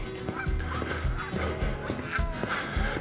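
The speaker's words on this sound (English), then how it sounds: "Lots of gooses here." A flock of geese honks repeatedly from nearby, with overlapping calls in an uneven rhythm that runs throughout.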